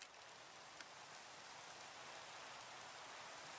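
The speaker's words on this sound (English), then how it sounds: "Boo rain. No rain." Rain falls steadily in Minecraft with the ATM7 modpack on a skyblock world. It is a faint, even hiss with no talking.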